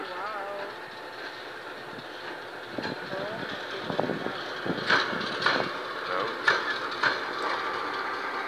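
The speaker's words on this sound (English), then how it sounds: "There's a train coming." A passing ex Iarnrod Eireann GM 141 Class diesel locomotive train rumbles steadily at middle distance, with rhythmic wheel clatter and clanks building toward the end, moving slowly toward a station as people talk nearby.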